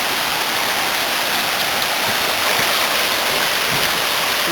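The Verde River rushes steadily through a rocky chute, a loud, unbroken roar of white water that fills the whole scene with no voices.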